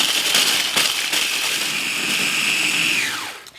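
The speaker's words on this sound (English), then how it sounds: "So I'm just going to turn on my mixer and get this pulsing." A food processor blitzes graham crackers into crumbs, a loud close whirring motor drone that holds steady before winding down sharply at the end.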